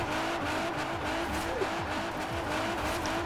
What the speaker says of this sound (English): Well, it's able to do a donut